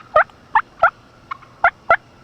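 Wild turkeys gobble at first light in the woods, five loud, rattling gobbles spaced about every third of a second to half second, with a faint short call between them and no talk.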